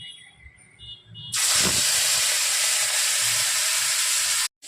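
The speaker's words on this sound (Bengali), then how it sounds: "আগে থেকে চিংড়ি মাছে নুন হলুদ মাখিয়ে রাখা হয়েছে, সেটা এবার একে একে ছেড়ে ভেজে নিতে হবে" Prawns rubbed with salt and turmeric drop into hot oil in a wok, setting off a sudden loud, steady sizzling hiss that fills the clip before cutting off abruptly near the end.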